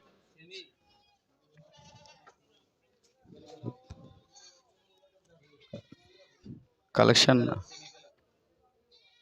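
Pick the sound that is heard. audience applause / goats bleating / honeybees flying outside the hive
goats bleating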